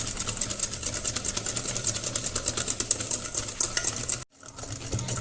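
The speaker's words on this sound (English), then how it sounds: "once it is done beating, mixing together, creaming together the sugar and ghee" An electric mixer beats sugar and ghee into a creamy cookie dough, a steady close whirring with rattling against the bowl that cuts out briefly near the end, then resumes.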